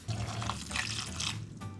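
Water pours into a pot holding raw beef fat being rendered into tallow, a steady splashing rush lasting under two seconds, close and fairly quiet, with no talking.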